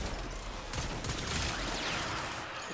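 Rapid gunfire bursts from the Latum weapon in the video game Warframe, crackling steadily and loudly across the whole stretch with a dense, sustained volley and no talk.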